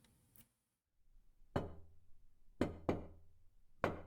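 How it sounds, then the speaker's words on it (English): In the Chaos;Child visual novel game, someone knocks at a door: four sharp raps, one, then a quick pair, then one more, crisp and close against near silence. "Suddenly, there was a knock at the door."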